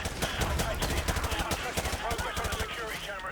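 Dense, rapid gunfire in Call of Duty: Modern Warfare 2 Remastered, in a prison converted from a castle: loud overlapping bursts and single shots crackle nonstop, close and continuous.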